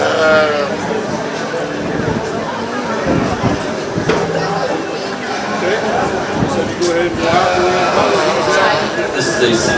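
Sheep bleat at a 4-H/FFA county fair show ring among commercial ewes, the calls rising over steady crowd noise and an announcer's voice, with several bleats layered and continuing throughout.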